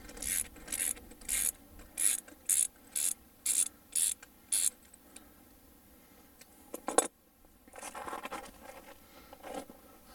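Ratchet loosening lug nuts on a Dodge Viper wheel, starting with the lock lug: a steady run of evenly spaced, close clicking strokes, then a pause and a few scattered clicks and rattles.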